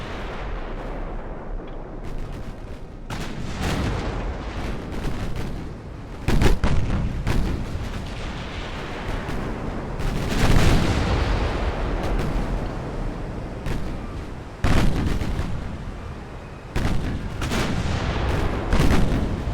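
Naval guns firing in the warship game Ultimate Admiral: Dreadnoughts, with repeated heavy booms and rolling blasts in irregular salvos over about twenty seconds, loud and close with no talk.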